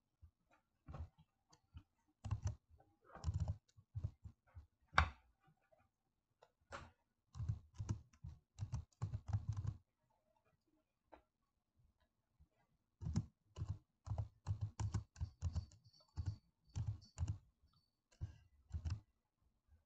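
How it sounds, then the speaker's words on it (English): Keys clack on a computer keyboard in close, fairly loud bursts of rapid taps, with short pauses between runs and a longer silence midway. "Then click anywhere on your screen and start typing."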